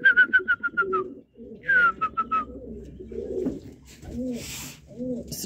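Pigeons in a pigeon loft aviary give soft, close coos and rapid bursts of whistling calls, with rustling and faint movement between them.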